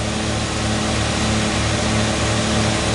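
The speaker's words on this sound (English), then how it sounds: "Hear how high it's idling?" An old truck engine idling high, a loud, steady, unbroken hum with a constant low drone, heard close and alone.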